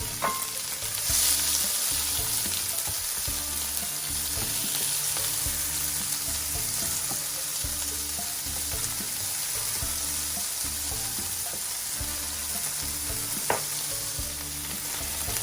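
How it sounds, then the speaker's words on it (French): Bell peppers fry in a generous amount of olive oil in a large pan for ratatouille, a long, even sizzle with faint stirring and an occasional sharp clink, close, with no one talking. "On va d'abord faire revenir nos poivrons."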